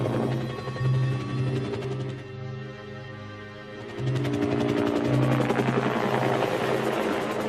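A helicopter carrying evacuees during the fall of Saigon in Vietnam hovers to land on a ship at sea, its rotor thumping loud and close in a fast steady beat that dips briefly in the middle and then returns at full force.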